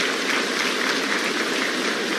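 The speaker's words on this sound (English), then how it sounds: "Let's give them a round of applause." Audience applause at a regional heads-of-state summit, honouring secondary school essay competition winners, a dense continuous clapping that holds steady and loud throughout.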